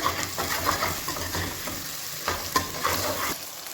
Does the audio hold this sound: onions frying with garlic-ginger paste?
yes